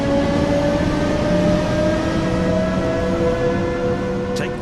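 A steady, loud rumble comes from a train on the Semmeringbahn in Austria in Train Sim World 5, with droning wheel and motor tones that hold throughout, joined by a brief high squeal near the end.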